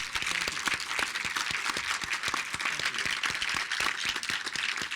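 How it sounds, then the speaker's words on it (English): Steady, dense applause from an audience at a gift announcement ceremony honoring a guest, with many hands clapping continuously and evenly for the full stretch, no voices over it. "ask one more round of applause for our guest of honor today, Tim Blair."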